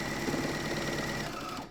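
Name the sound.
sewing machine trimming fabric while sewing yoga pants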